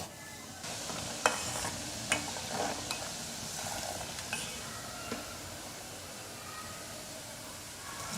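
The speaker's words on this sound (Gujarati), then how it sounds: "તો આ રીતે કન્ટિન્યુ ચલાવતા આપણે ગોળાને તૈયાર કરવાનો છે" Fenugreek and jaggery mixture for gunda pickle being stirred steadily in a pan over a low flame, a soft continuous scraping and gentle sizzle with a few sharper clinks of the spoon against the pan.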